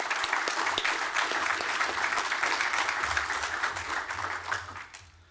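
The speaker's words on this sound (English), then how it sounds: "Please give him a big applause." Sustained audience applause at a demoscene panel session, dense steady clapping from a large crowd that holds for about five seconds before tapering off at the end.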